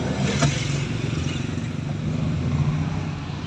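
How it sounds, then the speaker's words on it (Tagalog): Street traffic in Calamba as students are let out of school: a steady, close engine drone of passing vehicles with a rumbling low end and no talking. "Inabot na kami ng traffic dahil nag-awasan na."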